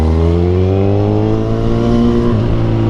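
A Kawasaki Z1000 Sugomi 1000 cc four-cylinder naked motorcycle pulls hard while held in third gear, its engine note climbing steadily and loud throughout with no talk over it.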